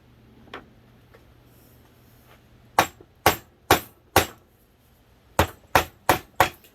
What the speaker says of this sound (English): now I'm just gonna keep tapping down